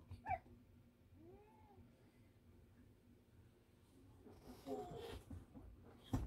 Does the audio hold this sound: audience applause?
no